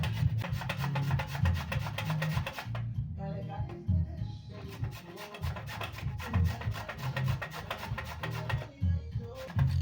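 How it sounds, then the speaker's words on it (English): Hard avocado seeds being grated into tiny pieces, producing repeated rasping scrapes in quick strokes with brief pauses, close and moderately loud without speech. "Make sure you grate them into very tiny pieces so we can easily extract all the nutrients."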